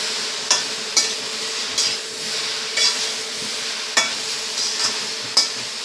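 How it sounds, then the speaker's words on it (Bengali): Mixed Bengali panchmishali vegetables fry with spices in a pan under a steady sizzle, while a spatula stirs and scrapes in regular sharp knocks every second or so. "মশলাটা দিয়ে সবজিগুলোকে ভালো করে কষিয়ে নিতে হবে"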